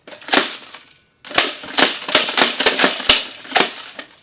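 A vintage Nerf Zuka ball launcher fires repeatedly, giving a quick run of sharp plastic pops and clacks in an uneven rhythm. A short pause comes early, then another burst of rapid shots follows, close and fairly loud.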